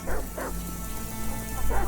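A dog in a GTA roleplay video game gives three quick yapping barks over a steady background hum, close and fairly loud.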